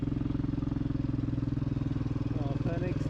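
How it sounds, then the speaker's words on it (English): A steam engine runs steadily nearby with a regular chugging, clattering beat throughout; a voice speaks briefly near the end. "Just look at that steam engine."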